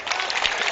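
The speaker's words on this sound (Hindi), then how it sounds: "जरा एक मर्तबे खुल जाइएगा तालियों से तो मेरा भी कुछ थोड़ा हौसला बढ़ जाए" An audience at a mushaira poetry gathering in Pratapgarh claps in a short, dense burst of applause, loud and even throughout, with no voices over it.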